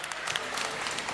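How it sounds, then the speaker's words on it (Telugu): Applause welcomes the chief guest, an MLA, at a photographers' association swearing-in ceremony in Miryalaguda; a dense, steady burst of crowd clapping fills the short moment with no talk over it. "ఎమ్మెల్యే గారికి గట్టిగా చప్పట్లతో ఒకసారి"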